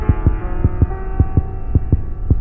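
Heartbeat in the Granny horror video game, a steady throbbing pulse of about eight deep thumps over a low hum, quickening slightly, with no talking.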